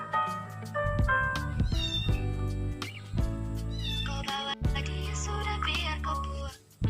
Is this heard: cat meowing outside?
yes